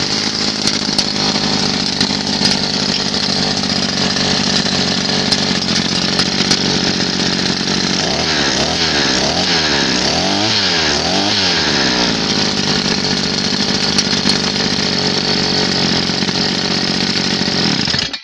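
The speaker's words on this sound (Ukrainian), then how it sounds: "Як бачимо, карбюратор шепче, працює гарно" A two-stroke brush cutter engine runs steadily after a carburettor repair, a loud, close, continuous high buzz with a brief wavering stretch in the middle and no voices.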